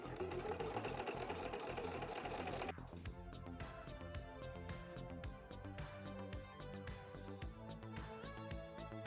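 A sewing machine fitted with a ruffler foot gathers fabric into ruffles, running with a fast, steady mechanical chatter that shifts into a rhythmic ticking pattern partway through, close and continuous.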